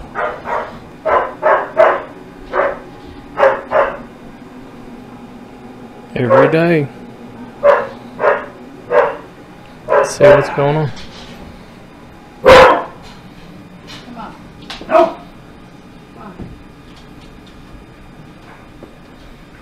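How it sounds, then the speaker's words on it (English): A dog barks repeatedly in short single barks and small clusters, moderately close and loud, with pauses between, while someone talks over and between the barks. "That dog's been doing that."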